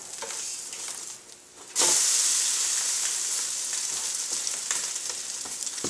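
French toast studded with chocolate chips frying in a pan: a soft sizzle that suddenly swells into a loud, bright, steady hiss as the slice is flipped, with a few light clinks on top.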